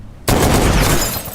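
A loud, sustained boom of sniper rifle fire, Sig M400s shot together by three shooters, erupts abruptly after a brief quiet and rolls on with echo for over a second.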